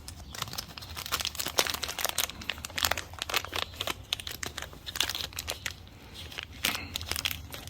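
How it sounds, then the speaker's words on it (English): Plastic packaging crinkles and crackles near at hand as a felt-cardboard drain plug gasket for a 1972 Yamaha RT1-360 Enduro is worked out of its bag, with busy, irregular rustling throughout. "If I can get it out of the package."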